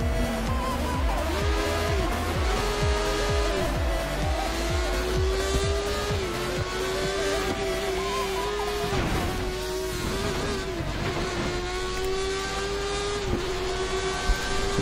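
Formula 1 race car in a racing video game at the China circuit screams down the straight, a sustained high engine whine climbing through gears with brief dips at shifts, loud and continuous throughout.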